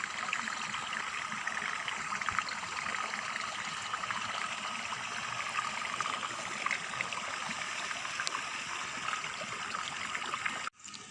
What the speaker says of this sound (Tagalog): Ito yung maliit na sapa guys.